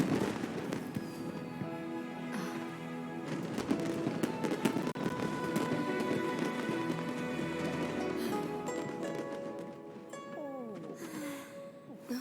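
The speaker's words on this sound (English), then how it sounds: "a firework that looks just like a pig!" Fireworks bursting during the Lantern Rite festival in a video game, repeated pops and crackles over a busy festive backdrop with music and ambient game sounds, moderately loud throughout.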